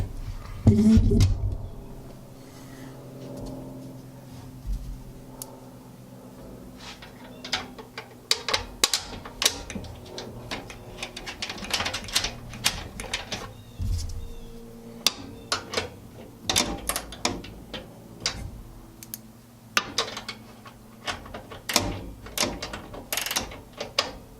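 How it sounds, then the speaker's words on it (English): Bolts are fastened by hand onto a Harbor Freight tool roll cart, with scattered ratcheting clicks, metallic taps and clunks of parts being handled, moderately close and irregular throughout. "So I'm just going to go ahead and put the rest of the bolts on"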